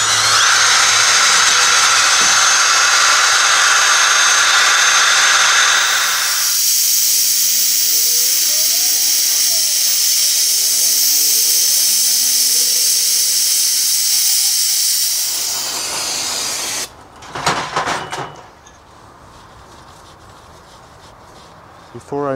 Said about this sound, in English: for that, I'm using a metal brush with a drill.